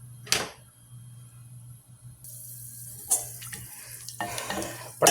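Whole cinnamon, cloves, cardamom and pepper frying in hot oil for a spicy mutton curry, a steady low sizzle with sharp crackling spits and stirring clatter near the pan, no talk.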